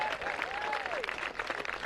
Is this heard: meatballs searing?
no